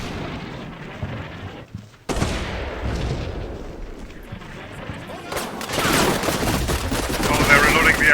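Submachine guns and a carbine fire in a Combat Mission battle, loud dense bursts of gunfire that break off briefly and then build into heavier, rattling volleys near the end.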